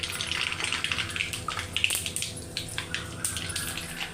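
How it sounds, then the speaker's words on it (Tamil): Mustard seeds splutter and crackle in hot oil in a kadai for mango pickle: a dense, continuous fizzing sizzle with rapid small pops, close and steady throughout. "எண்ணெய் காஞ்சி போச்சு. கொஞ்சம் கடுகு போட்டுப்போம்."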